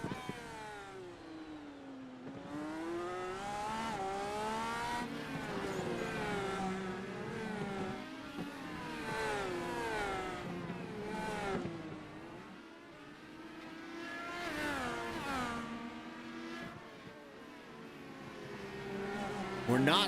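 Race car engines at Long Beach whine and rev through repeated gear changes, loud and close, with pitch sweeping up and down as cars accelerate and brake, while a commentator talks over them.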